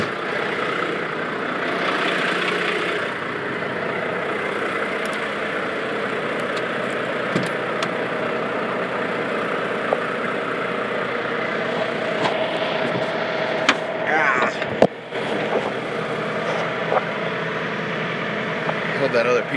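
A truck engine idles in a steady low rumble for the whole stretch, with a few clicks and knocks near the end as someone moves about the cab, and someone talking intermittently over it.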